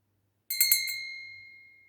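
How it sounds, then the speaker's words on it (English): A small meditation bell is struck with a couple of quick taps close by, its clear high ringing tones then fading slowly through a long, quiet decay in an otherwise still room. "And I have my little meditation bell,"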